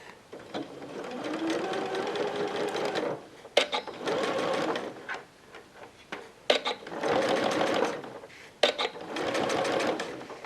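A domestic sewing machine stitching bias binding onto a waterproof bib, running in four steady bursts of whirring needle motion separated by short pauses and light clicks, close and moderately quiet.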